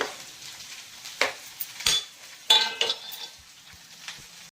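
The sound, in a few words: okra fry curry being served from a pan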